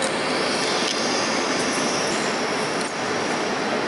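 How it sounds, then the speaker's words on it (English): Inside a train leaving Salzburg for Munich, a steady loud rumble and broadband rail noise fills the cabin, with faint clicks from the wheels on the track. "finally, the train is moving and we are en route back to Munich"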